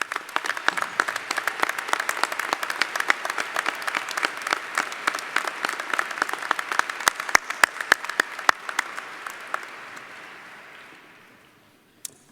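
An audience at a university commencement ceremony applauds in a dense, steady patter of many hands for several seconds before the clapping thins out and fades away.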